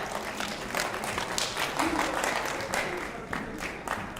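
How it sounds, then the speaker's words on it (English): Students applaud at a senior class meeting: a continuous wash of clapping from a large group in a hall, fairly close and even in level, fading slightly toward the end. "Give it up for Mr. Short."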